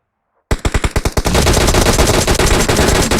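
Automatic gunfire in a competitive first-person shooter scrim: a rapid string of sharp separate shots that merges into a sustained loud burst of fire, up close and with no voices.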